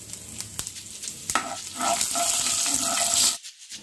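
Panch phoron and asafoetida crackle in hot oil for a tempering. A steady close sizzle with scattered pops swells, then cuts off abruptly near the end.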